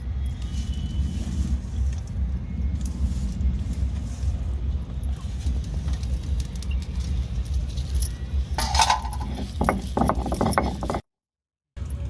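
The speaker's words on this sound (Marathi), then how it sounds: "तर आधी खोबरं वाटून घेते।" Dried coconut being ground for a village-style chicken masala, a steady mechanical grinding hum running continuously at close range, loud and unbroken before ending abruptly.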